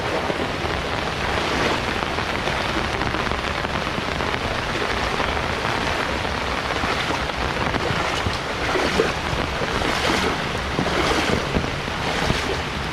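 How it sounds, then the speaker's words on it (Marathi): Steady, dense rush of heavy rain mixed with wind and water noise at a lake, loud and continuous throughout with no voices. "पाऊस पण भरपूर आहे"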